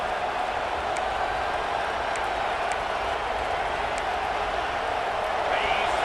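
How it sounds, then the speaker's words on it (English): Stadium crowd noise in a College Football 26 video game, LSU against South Carolina, a steady broad roar of fans holding at a constant level for several seconds and swelling slightly toward the end. "And the crowd coming to life here"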